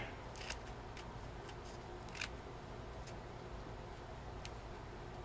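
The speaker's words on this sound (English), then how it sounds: "I kind of want to trim this bit off, so I'm just going to trim this off" Scissors trim a paper journal booklet with a few short, crisp snips spread over several seconds, close and fairly quiet above a steady background hum.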